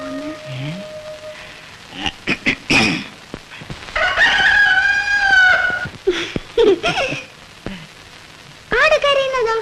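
A human voice imitates a rooster crowing in a scene from an old Malayalam film, giving two drawn-out crowing calls between bursts of talk.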